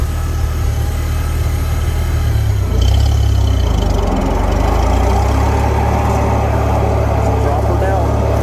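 Farmall Cub tractor engine running steadily in second gear with the clutch let out and PTO engaged, a continuous low mechanical drone under ongoing talk, fairly loud and close throughout.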